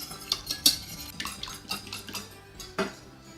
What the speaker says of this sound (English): give that a whisk and break up the yolks